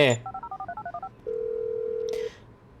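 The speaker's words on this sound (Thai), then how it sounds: "ตอนนี้ภารกิจคือต่อให้เราหยิบมือถือขึ้นมาเพื่อทำการ จุดชนวนระเบิด" Mobile phone keypad tones in GTA V, a quick run of about ten short dialing beeps followed by one long steady tone that cuts off, with a brief click at the end, used to detonate a bomb.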